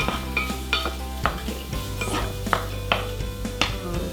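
Broccoli and carrots sizzle in a Saladmaster pan, a steady close fry broken by sharp knocks and scrapes of a utensil against the pan every half second or so, with no talking.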